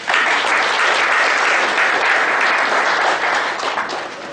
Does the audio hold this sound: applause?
yes